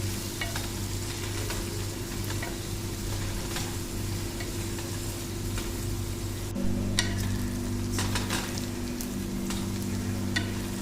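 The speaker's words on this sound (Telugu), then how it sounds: "కట్ చేసుకున్న ఆనియన్స్ వేసుకొని ఇవి కూడా బాగా గోల్డెన్ కలర్ వచ్చేంత వరకు బాగా అయితే ఫ్రై చేసుకోవాలి" Chopped onions sizzle steadily in hot oil while frying toward golden for a chicken curry, with occasional stirring scrapes and no one speaking.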